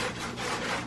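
Soapy pineapple skin being scrubbed by hand makes a close, steady, rasping rub lasting under a second, with no talking.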